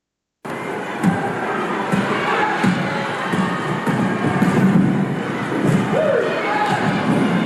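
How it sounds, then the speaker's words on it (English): Sports arena crowd cheering on a VHS tape playback, a steady dense roar with occasional thumps and bouncing balls under the noise, starting abruptly and staying loud throughout. "What a welcome the crowd is giving the Milk Trotters today."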